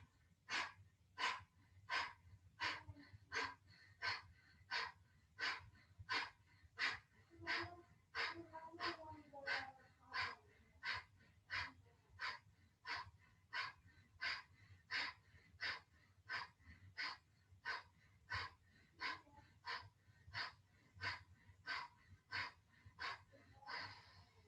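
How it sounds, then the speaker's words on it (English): Kapalabhati breathing practice: a long, steady series of quick, forceful nasal exhales, evenly spaced about twice per second, close but soft, continuing for the whole stretch with no speech. "start exhaling quickly without really putting any emphasis on the inhale"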